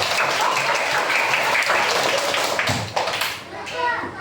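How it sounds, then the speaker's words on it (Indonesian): Fourth-grade classroom children applauding a classmate, a dense stretch of quick clapping that runs nearly the whole clip, with children's voices chattering through it and the clapping thinning briefly toward the end. "Tepuk tangan buat Habibie."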